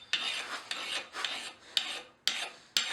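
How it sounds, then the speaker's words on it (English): A fine file rasps across hot metal heated to about black heat, in about six distinct push strokes with short pauses between them. The scraping is close and crisp, and no one speaks. "Now you can actually come in here with an even finer file yet and better refine that piece."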